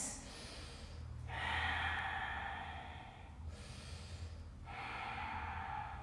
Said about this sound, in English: And here you're just going to take another 3 deep breaths.